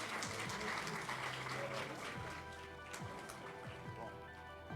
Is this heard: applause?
yes